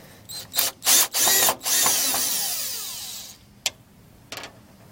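A power drill whirs in several short bursts while driving out screws on a Jeep XJ headlight, then runs in one longer sustained spin that winds down, followed by a few sharp clicks.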